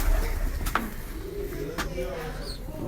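Pigeons in breeder pairs at a loft in Lahore, low soft cooing close by in a short clip, with background noise and brief sharp knocks.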